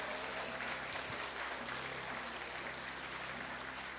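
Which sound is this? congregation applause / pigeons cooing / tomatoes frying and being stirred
congregation applause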